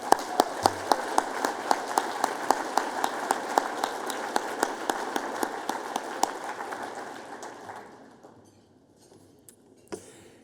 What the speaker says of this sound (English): One more round of applause for Sister Janet.